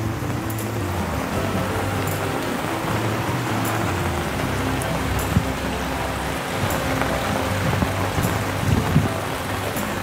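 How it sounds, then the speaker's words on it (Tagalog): Heavy rain pours down in a steady, loud, unbroken roar on the way toward Calamba, Laguna, with occasional sharper drop impacts standing out from the wash. "Ang lakas ng ulan."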